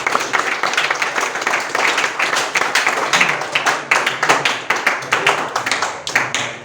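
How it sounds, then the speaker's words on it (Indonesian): An audience claps steadily for a student group after a presentation in a university classroom, a dense round of many hands lasting several seconds, loud and close with no talk over it. "Kita berikan aplaus."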